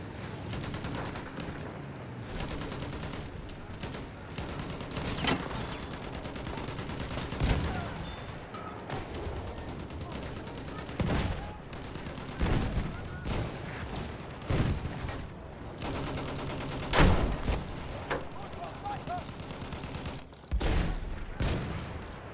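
Machine gun and rifle fire in the Battlefield 1 video game on the River Somme map, with repeated bursts of gunfire and distant booms through a dense battle din.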